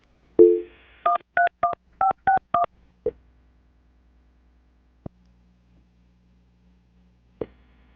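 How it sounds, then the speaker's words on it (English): A series of telephone keypad tones beeps in quick succession, followed by a couple of faint clicks and a low hum, close and clear with no talking. "before I dial her phone?"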